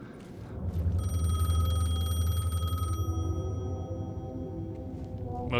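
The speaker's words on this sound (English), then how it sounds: "The payphone was ringing." Payphone in the Alan Wake II video game rings with a bright electronic bell tone, a sustained ring over a low rumbling ambience that cuts off partway, leaving a dim hum.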